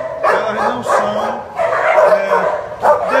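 Several dogs kept behind a makeshift cardboard barrier bark and yip in quick, overlapping bursts at close range, with whimpering mixed in, continuing throughout.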